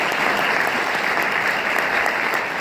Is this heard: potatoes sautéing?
no